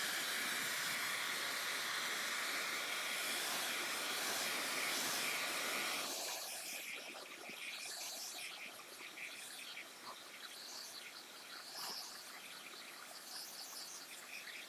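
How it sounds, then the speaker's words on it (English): A hair dryer blows steadily on wet acrylic paint on a Christmas snowman painting, a loud continuous hiss that drops to a softer, rougher airflow partway through. "And blow dryer."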